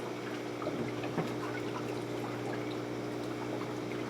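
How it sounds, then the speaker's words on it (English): Water pours steadily into an aquarium auto top-off reservoir while a reef tank is topped up, a continuous splashing trickle over a constant mechanical hum, with no voices. "let's start first by topping off the ATO reservoir"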